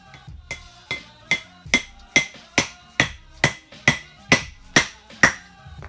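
A dead blow hammer taps a clutch alignment tool into place on a B-series flywheel in a CRX engine, about thirteen evenly spaced, close, dull knocks alone.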